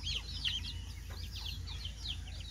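A brood of twelve newly hatched Muscovy ducklings peep in quick, high, repeated chirps close by, over a steady low hum.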